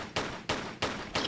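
Enemy gunfire from a guard in Tomb Raider III's Area 51 level in Nevada: four evenly spaced loud, broadband shots or short bursts, each sharp onset followed by a sustained decay, with no talking.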